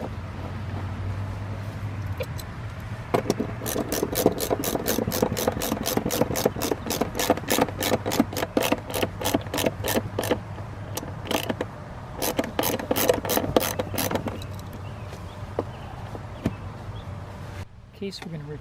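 Ratchet wrench driving a lag screw into a house wall to fasten a large egress window well cover, a long run of rapid, evenly spaced clicks with brief pauses, close and loud over steady background noise.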